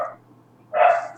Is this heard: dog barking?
yes